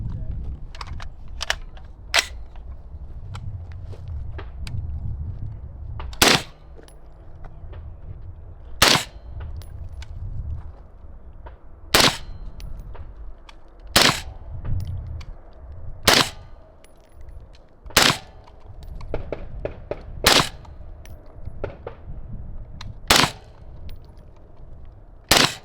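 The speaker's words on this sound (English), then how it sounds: "Now we're going to shoot a 10 round string of M855 Alpha 1, right?" A rifle fires a ten-round string of M855 A1 62-grain ammunition: sharp, loud single reports spaced a few seconds apart over steady outdoor background noise and low voices.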